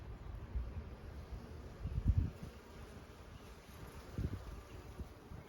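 Honey bees drone steadily around an opened hive during an inspection with queen cells and drone brood, a faint, continuous buzz with a few louder low swells as bees fly close.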